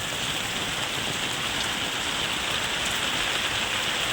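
Heavy rain pours down in a dense, unbroken roar, close and steady with no voices.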